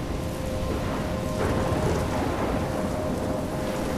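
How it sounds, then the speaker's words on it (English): A thunderstorm in the Life is Strange video game: heavy, constant rain hisses loudly with a deep rumbling roar of thunder beneath, steady throughout without voices. "I'm trapped in a storm?"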